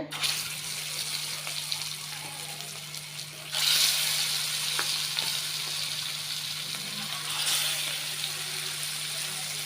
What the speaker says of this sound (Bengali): হলুদ মরিচ লবণ দিয়ে মেখে নিছি, আমি ভেজে নিব